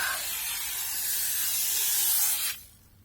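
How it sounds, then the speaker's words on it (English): Aldi tire shine spray hisses from the can onto a car tire in one loud, steady burst of about two and a half seconds, then cuts off sharply. "Now as a finishing touch, a bit of Aldi tire spray."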